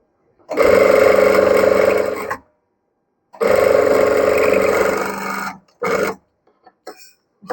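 A sewing machine stitches a blouse with a deep V neck in two sustained bursts of steady machine whirring, each about two seconds, followed by a short stop-start run and faint handling noises.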